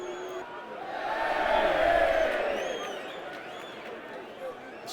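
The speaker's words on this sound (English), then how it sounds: "Still in danger despite the cheers of the crowd" Crowd at a Millwall versus West Brom football match swelling into a loud, sustained roar of cheering that peaks and then eases back, with whistles and scattered shouts in the stadium.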